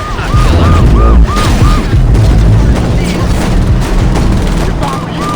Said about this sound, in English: That gun's pretty loud, isn't it?